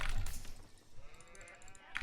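Sheep bleating in the strategy game Age of Empires IV, a short faint bleat amid soft game sounds, with no talking.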